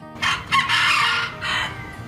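Wild rooster crowing nearby, one full cock-a-doodle-doo call of rising and drawn-out notes, loud and clear against a quiet outdoor background.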